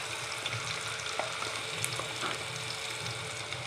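Ginger garlic paste frying in a pan, a dense, steady sizzle with small pops and light stirring clicks, close up and with no one talking.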